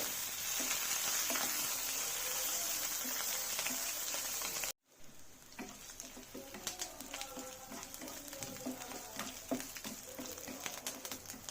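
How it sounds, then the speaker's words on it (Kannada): Dried red chillies and crushed garlic frying in hot oil as a tempering for Udupi-style Mangalore cucumber sambar, a steady close sizzle that cuts out briefly partway, then resumes with crackles and spatters. "ಈಗ 1-2 ಒಣಮೆಣಸು ಚೆನ್ನಾಗಿ ಫ್ರೈ ಆಗಲಿ"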